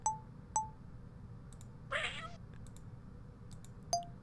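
A video game cat lets out sad little meows: short, faint electronic blips at the start and end, with a brief breathy cry in the middle, against quiet background hiss.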